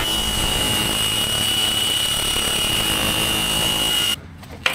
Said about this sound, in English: grinder with a cutoff wheel